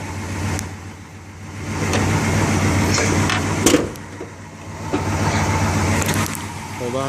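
A 1971 Pontiac T-37 engine idles and revs with a choked, stifled exhaust, producing a steady low rumble that swells and eases, with a voice briefly talking over it.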